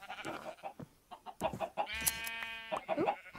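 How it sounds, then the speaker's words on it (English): A chicken clucks in a farming video game, a few short clucks and squawky calls at close range against light game sounds. "Say hello to Mr. Chicken"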